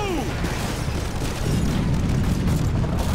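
Rocket launcher blasts inside a building in Call of Duty, heavy booming explosions and rumbling debris layered with battle noise, loud and close throughout.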